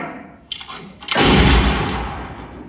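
Movie gunfire from a firing squad: a sharp crack rings out, followed by a louder, booming gunshot that rolls off into a fading echo.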